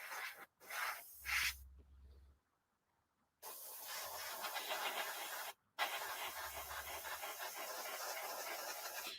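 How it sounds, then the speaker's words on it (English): Short bursts of spray paint hiss onto a scale model. Several close, sharp hissing pulses are split by gaps of near silence, then a longer sustained spray runs to the end, with no talk. "I'm kind of like spraying in a pattern like this"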